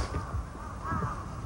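A common raven calls in a mountain valley in Hokkaido, rough croaking caws repeating at a distance over steady background rumble, with no talking.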